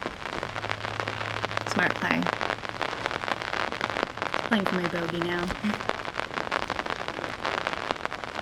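Steady rain patters on a disc golf course during a women's championship round, a broadband hiss running throughout beneath a voice talking, with a low hum in the background.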